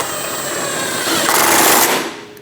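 A power tool whirs steadily as fuel tank bolts are driven in and snugged down on a 2011 Dodge Durango 5.7L V8, rising into a louder, harsher burst near the end before winding down.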